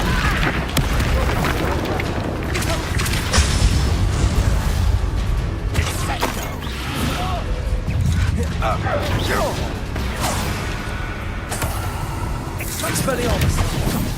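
Spell-casting combat in Hogwarts Legacy, including an Expelliarmus cast, with dense booms, crashes and magical impacts throughout, a loud continuous mix of effects under a talking voice.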